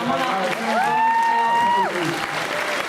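An audience at a film festival introduction and Q&A applauds throughout, with a sustained voiced cheer or whoop rising above the clapping in the middle before the crowd carries on.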